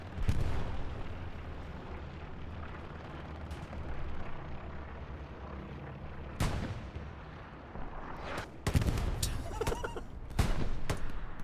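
Artillery bombardment in the video game Hell Let Loose on Omaha Beach, loud booming explosions landing repeatedly over a continuous rumbling battlefield din, several sharp blasts near the end.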